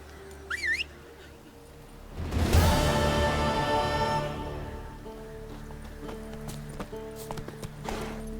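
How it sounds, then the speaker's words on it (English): Roach, Geralt's horse in The Witcher 3, trots along with a steady clip-clop of hooves over a low ambient hum, joined by a brief whistle near the start. "That's it, Roach. Whoa there"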